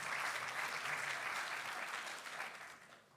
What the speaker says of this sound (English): let's now give another round of applause, please, to President of Rest for Africa, Francesco Vetturini, for that opening remark